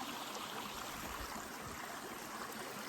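Small woodland creek flowing, a soft, steady wash of trickling water, faint and continuous with no voices.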